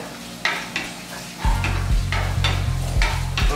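Finely diced cubes for fabada asturiana brown in a pan over high heat, giving soft sizzling under repeated rhythmic stirring scrapes and spoon knocks that come in steady pulses.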